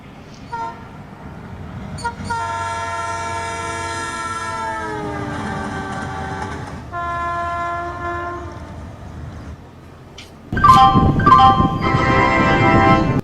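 A train horn sounds at a railway station in Hungary, long steady harmonic blasts repeating over about ten seconds with a rolling rail rumble, followed by a louder burst of clatter and whistle-like tones at the end.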